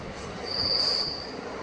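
A DEMU passenger train on the Secunderabad–Siddipet line runs near Duddeda station, a steady rumble of rolling stock with a loud, sustained wheel squeal that rises midway and then fades.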